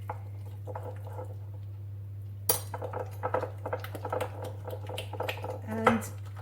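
A spoon mixes quince butter in a bowl, with a faint start and then a run of clicking, tapping strokes against the bowl. A steady low hum runs underneath the whole time.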